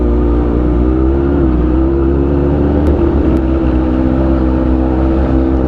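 A vehicle engine drones loud and close at an outdoor festival during a test drive, a steady, heavy revving rumble that holds for several seconds with no voices over it.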